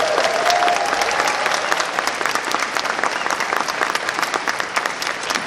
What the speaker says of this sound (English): So round of applause for all of you guys.